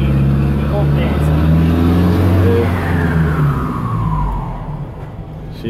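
An Iveco truck engine with a turbo revs hard, its loud low roar rising and falling steadily and a whistling tone sweeping downward near the end, with voices talking over it.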